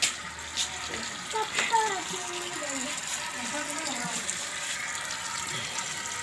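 Water runs from a tap during hand-washing of clothes at home, a steady splashing flow with a girl and an adult talking over it.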